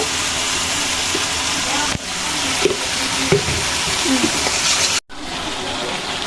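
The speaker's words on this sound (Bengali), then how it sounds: "এখানে তেলের মধ্যে একটু রসুন ভেজে নিচ্ছি আর টমেটো দিচ্ছি কুচি কুচি করে কেটে" Garlic and chopped tomatoes fry in hot oil for a momo sauce, giving a steady broadband sizzle with a few stirring clatters and a brief cut near the end.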